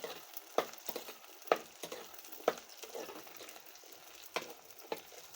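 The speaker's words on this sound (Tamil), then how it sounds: "சேர்த்து நல்லா சுருளாக வதக்கி விட்டுறலாம் இந்த பாகக்காய்." Bitter gourd sautés with onion and garlic in a pan, a steady quiet sizzle broken by regular sharp clinks and scrapes of stirring, close and unaccompanied by talk.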